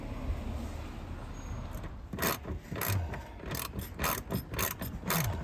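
A ratchet with a 1/2-inch deep well socket tightens bolts while a Rev hard roll-up tonneau bed cover is fitted to a Ford Maverick, giving a series of close, crisp clicking bursts in quick uneven runs.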